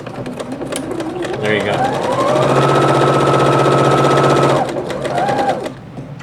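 Janome sewing machine fitted with a leveling foot, stitching over a fabric seam: a close, loud whirring run that speeds up, holds steady for a few seconds, then winds down, with someone talking over it.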